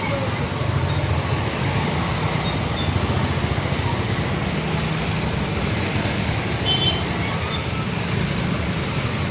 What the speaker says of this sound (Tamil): இந்த ரோடு பாருங்கள் எவ்வளோ டிராஃபிக் ஆகும்.